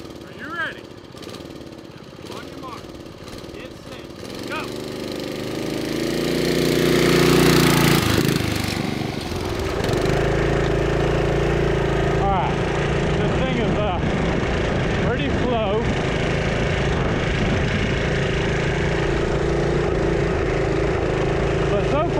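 1972 Sears Roper mini bike engine running, a loud, steady small-engine putter that swells as it passes close, then holds a continuous drone, with voices talking over it.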